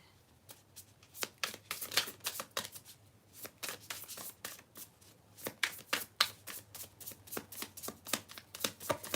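Tarot cards being shuffled close by, a steady run of quick riffling slaps and flutters, quiet and continuous with no talking.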